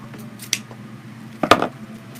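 Scissors trimming ribbon on a holiday sign, two quick close snips with a faint hum of the room between them.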